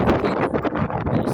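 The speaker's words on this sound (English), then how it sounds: "but it's so too windy." Strong wind on a Blackpool beach during a storm with high tides, a loud, steady roar and buffeting against the microphone that surges and dips without a break.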